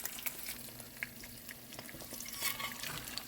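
An egg frying in a pot for a breakfast patty sandwich, a soft continuous sizzle with faint scraping and stirring ticks, close but quiet, with no talking.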